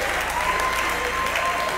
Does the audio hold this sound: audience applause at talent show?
yes